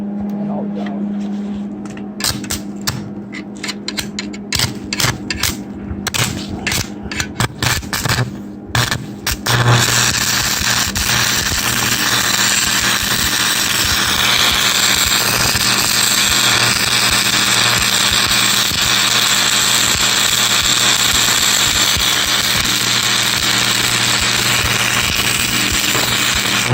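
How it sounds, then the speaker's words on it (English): Electric arc welding on steel wire, a sustained loud crackling buzz that settles into a steady hiss after a series of short sputtering bursts, with a low hum underneath. "that amperage is melting the wire, melting the steel, and welding together the doodad"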